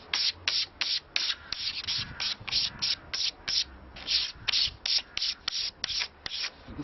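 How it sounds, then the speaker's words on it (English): A Stanley blade scrapes dust off the top of a wooden Anglo-Saxon lyre soundboard in quick, regular strokes, about twenty short close rasping passes with brief gaps between them. "I'm using a Stanley blade as a quick scraper, just to get any more dust off the top"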